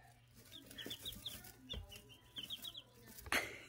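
Chickens cluck softly in a series of short, repeated calls, fairly close and quiet, with a few brief louder squawks near the end and no talking.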